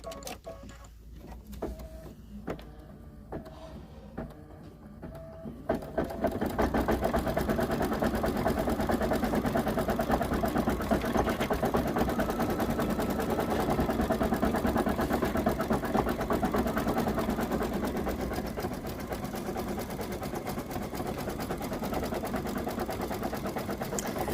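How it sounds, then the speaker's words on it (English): An embroidery machine satin stitches the top of a shamrock on a coaster in the hoop. It starts with sparse ticks and clicks, then settles into a continuous, loud, fast mechanical whir that holds steady for nearly twenty seconds. "it's going to do the satin stitch on the top part of our shamrock here"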